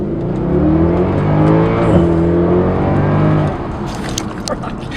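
A 2010 Mercedes-Benz E63 AMG engine revs loud and close in a steady, throaty drone that holds for several seconds, then eases off as the note drops away near the end.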